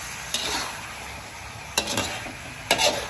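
Pumpkin and tofu stir-fry in a pan, a close steady sizzle broken by three scraping turns of the spatula against the pan.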